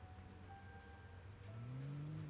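A car engine in a zombie survival video game hums low and steady, then rises in pitch as it accelerates toward the end, faint and alone with no voices.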